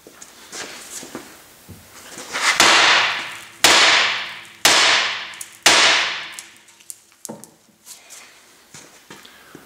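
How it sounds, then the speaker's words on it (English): Heavy hammer blows ring out on the steering spindle of a 2005–2010 Honda Odyssey during lower ball joint replacement: four loud, sharp metallic strikes about a second apart, each with a short ringing decay, then quieter clinks and handling noises. "I'm going to strike the spindle on this part right here using this BFH"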